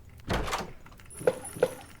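A door opens in the horror video game Doors with a short creak, followed by two faint clicking taps, close and quiet, with no voices.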